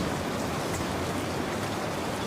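Steady rain falls in a dense, even hiss with no pauses or variation, a continuous wash of drops close by with no voices.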